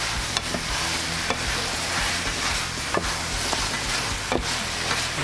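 Chicken sizzling in a hot frying pan in a home kitchen, a steady loud hiss broken by occasional stirring clicks, with no one talking.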